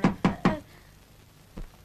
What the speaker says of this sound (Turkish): Kapı vuruldu değil mi?